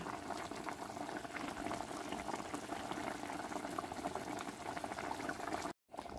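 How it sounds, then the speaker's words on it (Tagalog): Miswa noodles with ground meat simmering in a pot at home: a continuous close bubbling boil, briefly cut off near the end, no voices. "pakulaan ko lang and simmer that hanggang sa maluto si miswa"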